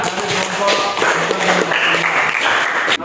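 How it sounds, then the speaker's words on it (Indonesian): Students in a classroom applaud, a dense burst of close clapping that runs for about three seconds, with some voices mixed in. "Beri tepuk tangan juga."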